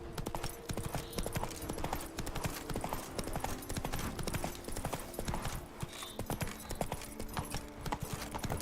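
A horse galloping in The Witcher 3, with rapid rhythmic hoofbeats pounding steadily and close throughout, set against a quiet game ambience.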